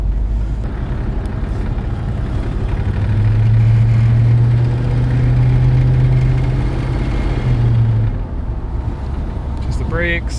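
Rebuilt Ford Ranchero engine running steadily with a strong low drone that swells for a few seconds mid-clip, heard from inside the moving vehicle with no talk over it.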